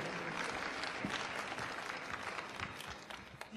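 A snooker hall audience at the 2012 China Open applauds a player's introduction, dense steady clapping from many hands filling the space throughout without voices.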